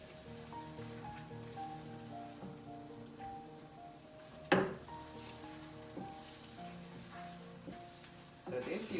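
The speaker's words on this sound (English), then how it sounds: "So right now I'm trying to fry the onion." Onion frying in a pan while cooking a goat meat dish: a soft, steady sizzle with crackles, quiet throughout, under a faint tonal background.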